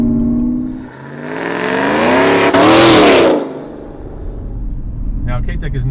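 A supercharged 6.2-liter 2018 GMC Yukon Denali with a Whipple 2.9-liter supercharger and Corsa exhaust revs hard, rising to a loud roaring peak and falling back to a steady idle, close by.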